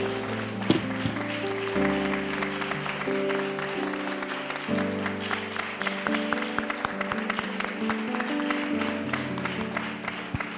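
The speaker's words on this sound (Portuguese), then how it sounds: "volte a aplaudir para a glória do Senhor nesta noite" A church congregation claps steadily throughout a worship service, with a dense wash of applause over organ or keyboard chords and singing voices in a reverberant room.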